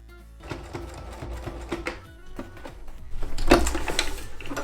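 A sewing machine stitching seam binding onto straps, running in quick rhythmic bursts of needle chatter with short pauses, then a louder, steadier run near the end.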